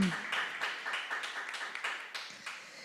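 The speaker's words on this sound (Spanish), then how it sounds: "Démosle un aplauso al Señor" Church congregation clapping in a reverent Spanish-language worship service, a quiet, somewhat uneven patter of hands that holds steady for a few seconds.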